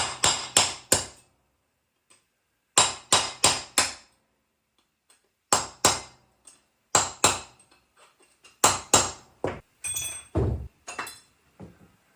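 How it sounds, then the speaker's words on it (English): A hammer drives a punch to knock rivet heads off a Harley M8 ring gear resting on concrete, sharp metallic strikes in quick bursts of three or four, separated by short pauses, close and loud. "I'm going to go ahead and knock out the rivet heads. I'm going to do this old school. Got a punch, good quality hammer."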